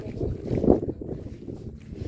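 Gusty wind buffets the microphone with low rumbling blasts that rise and fall over a couple of seconds, at a cold, scenic hillside spot in Idukki, Kerala.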